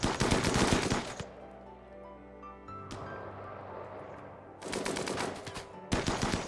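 Bursts of automatic gunfire from the video game RimWorld rattle loudly in two long volleys separated by a quieter stretch with a faint sweeping tone, then a final short burst.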